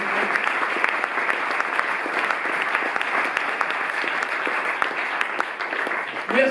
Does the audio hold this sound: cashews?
no